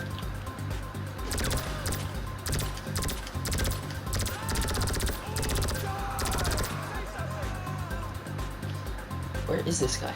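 Rapid gunfire from a non-reloading weapon in Grand Theft Auto V, bursts of repeated shots cutting in and out over game sound and ongoing talk, fairly loud and close.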